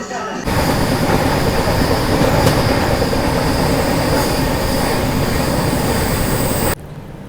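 The Sabari Express rumbles past near and loud just out of Trivandrum, a dense steady roar of wagons and wheels with faint squealing, beginning and ending abruptly.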